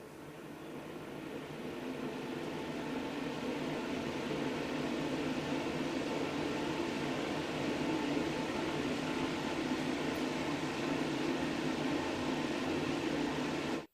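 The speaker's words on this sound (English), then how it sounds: "So let's go ahead and turn the machine back on." An Enviroklenz mobile air purifier running: a steady, even broadband whoosh of fan airflow that ramps up over the first couple of seconds, then holds constant and fairly close.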